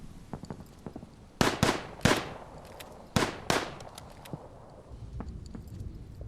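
Sharp cracking gunshots from a video game, a loud pair of shots followed by a single shot and then another pair with gaps between them, over a quiet, faintly noisy background.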